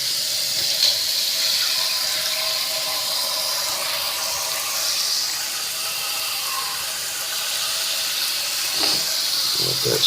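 A hot laminated circuit board is dipped into water, giving a steady soft hiss with a faint watery wash throughout, fairly quiet and even, with a few small knocks near the end.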